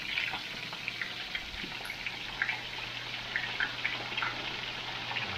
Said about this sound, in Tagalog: Ang ating sibuyas, bawang, sa luya. Lagyan natin na siya ng tubig.